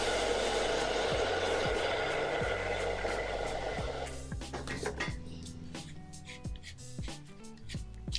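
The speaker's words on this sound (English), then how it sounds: "So let me get a dryer." A hair dryer blows with a loud steady whoosh for about four seconds, then switches off, leaving quieter clinks and handling sounds.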